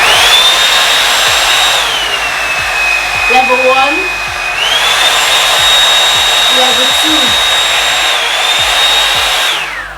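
A Revlon hot air brush blows with a loud, steady whooshing whir, its pitch dropping and rising between settings while a person talks briefly underneath.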